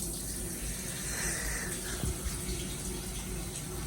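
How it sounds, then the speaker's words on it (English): Hands washed under a running kitchen tap, a steady close gush of water into a sink with faint splashing and rubbing, fairly loud and continuous. "So we gotta wash our hands because I was cleaning the kitchen."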